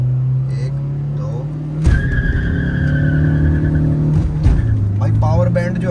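A Hyundai Creta and a Mahindra Scorpio N launch side by side in a drag race, engines revving hard with a sudden burst of tire noise and rising drone, while people talk over it.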